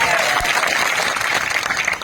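Dense, steady applause from a crowd at a protest sit-in rally in Shahdol, continuous and fairly loud throughout.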